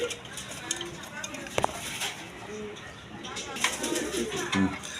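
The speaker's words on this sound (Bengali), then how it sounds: "এখানে এক পেয়ার লাহোরি কবুতর আছে দেখেন ব্ল্যাক কালারের মধ্যে" A pair of black Lahori pigeons coo softly at some distance, low murmurs mixed with shuffling and a couple of sharp knocks, with faint background chatter.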